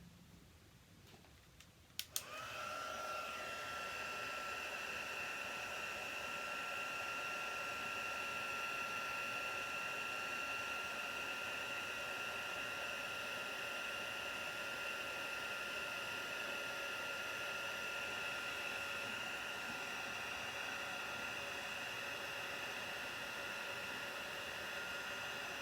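A heat tool blowing hot air over a paper craft project clicks on, then gives a steady, even hiss with a faint whine that continues unbroken to the end.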